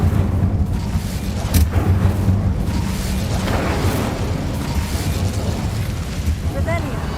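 Casting of the Incendio fire spell in Hogwarts Legacy brings a loud rumbling whoosh and booming burst of flame that roils on for several seconds, with a voice talking over it.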